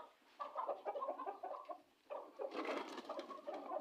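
An Aseel rooster and its flock of chickens on a home rooftop or yard, with a steady run of clucking and fowl calls that pauses briefly, then resumes louder and fuller; nearby and continuous, with no speech.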